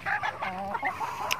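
Free-range native chickens cluck in short, close bursts over a steady outdoor background, with one sharper higher call near the end.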